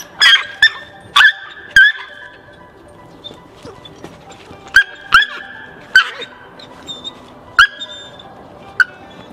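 Female Pyrenean Shepherd dogs scuffle at home, with sharp yips, barks and whimpers bursting out in irregular clusters, loud and close, separated by short quiet gaps.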